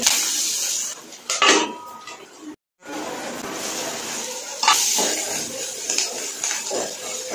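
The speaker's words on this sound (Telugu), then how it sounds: "1/2 స్పూను పసుపు వేసి గరిటెతో కలిపి మూత పెట్టి" Metal ladle scraping and clanking against a pot while turmeric is stirred into frying onions and green chillies for okra pulusu, with repeated close scrapes, a brief pause, then more knocking and clattering.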